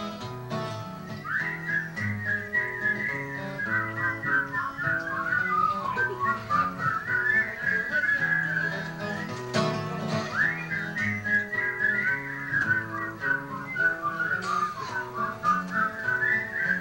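A concert audience whistles along with a song, many whistles rising and falling together in a wavering tune over a steady accompaniment.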